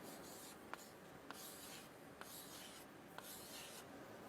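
A marker or chalk writes numbers on a board in four short rubbing strokes, each ending in a light tap, evenly spaced and faint under a steady background hiss, with no talking.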